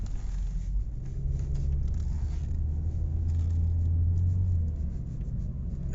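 A Ford Focus, just back from a transmission fix, rolls along at low speed. A steady, muffled engine and road rumble swells gently as it drives, with faint scraping and rattling on top and no voices.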